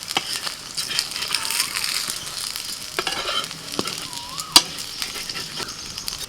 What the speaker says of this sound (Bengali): অল্প তেল দিয়ে এইভাবে উল্টে পাল্টে ভেজে নিতে হবে